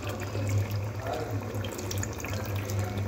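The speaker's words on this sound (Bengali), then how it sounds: "একটু জল দিয়ে দেব।" Water poured into a simmering Hyderabadi-style chicken curry in a home kitchen, a steady continuous pouring wash over a low hum, close and unbroken for a few seconds.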